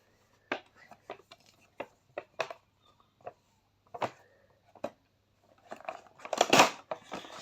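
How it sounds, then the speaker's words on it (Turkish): A cardboard box holding a toy tank kit is opened up close, with a series of sharp, separate taps, scrapes and clicks followed by a louder burst of rustling and tearing. "Hemen kutumuzu açalım."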